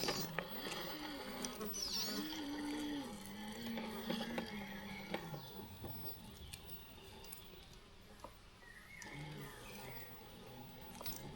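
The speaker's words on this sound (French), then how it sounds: "Je vais voir une attaque de moustique." A mosquito buzzes in and out with a thin, wavering whine, mostly faint against background rustle and patter, as a small RC scale vehicle scene plays out.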